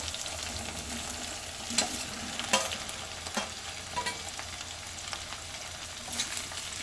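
Okra frying over medium heat in a pan with potatoes, giving a steady sizzle broken by a few sharp scrapes and clinks of the stirring spoon, close and alone with no voices.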